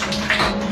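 Shower water pours into a bathtub in a shared bedsit bathroom, a brief, close, steady hiss and splash of running water.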